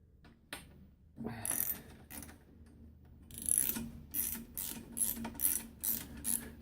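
A fitting on a thermo fan conversion is unscrewed with a ratchet, giving a run of close, quick clicking bursts in an irregular rhythm, faint and alone, after a few initial handling knocks.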